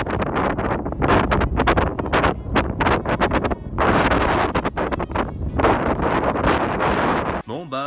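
Strong gusting wind on a golf course during a winter storm buffets the microphone in loud, irregular roaring bursts with brief lulls.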